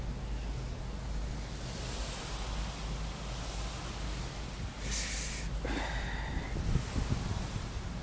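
Heavy rain pours down outdoors in a steady, dense hiss with low rumble, continuous throughout, with a brief brighter splash or gust midway.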